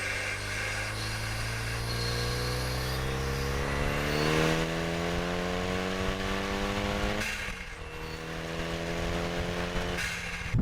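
Loud engine revving from a Bugatti Veyron replica fitted with a Clio 2 RS gearbox, pitch rising through several gears, then a shift and another climb, close and sustained with no talking.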